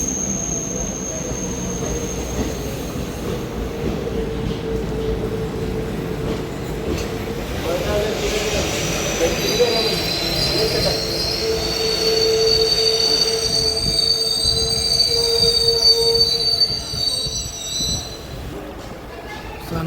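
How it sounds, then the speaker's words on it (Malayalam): The Mangalore–Thiruvananthapuram Eranad Express pulls into Chalakudi railway station with loud, sustained wheel squeals and a rolling rumble of carriages, some clatter, and voices faintly in the background. "Mangalore Ernakulam Thiruvananthapuram Eranad is arriving in Chalakudy railway station"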